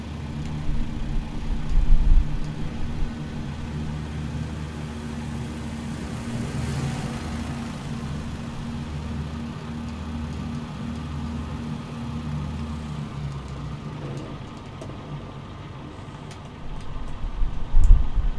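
Light aircraft engine idling and rumbling while taxiing in Microsoft Flight Simulator 2020 near Yosemite, a steady low drone with a few louder surges at the start and end, and no voices.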